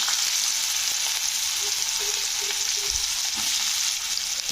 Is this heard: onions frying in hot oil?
yes